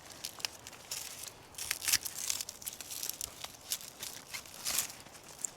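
Dead succulent heads being cut off in an autumn garden, giving dry crinkling snips and crunchy tearing of brittle dead growth, close up in irregular bursts with no talking.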